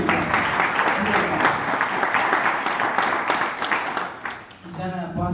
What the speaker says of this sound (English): That's why we clap, guys.